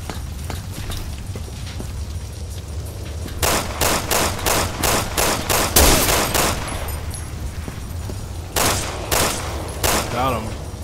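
Rapid bursts of gunfire from the video game Resident Evil 6 crack out in quick volleys, with pauses between clusters of shots over low game background sound.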